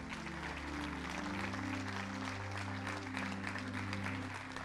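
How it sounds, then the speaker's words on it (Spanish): Congregation applauding steadily in a church service, sustained clapping with a low sustained organ or keyboard tone underneath throughout. "Denle un fuerte aplauso a Dios por eso."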